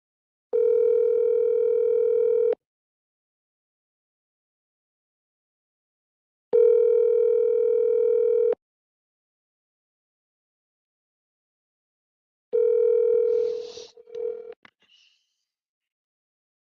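Phone call ringing tone, three steady two-second rings separated by long gaps of silence, clear and moderately loud, with a brief clatter of handling noise as the third ring cuts off.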